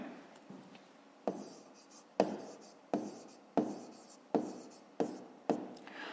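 Numbers handwritten with a pen on paper during a 5th-grade maths exercise: about eight quiet, close strokes in a fairly even rhythm, each a short scratch that fades out.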